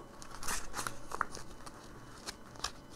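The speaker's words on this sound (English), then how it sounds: "I think the divine wants me to stop shuffling." Tarot cards being shuffled give faint, scattered papery flicks and soft crinkling taps, quiet and close, with small gaps between bursts.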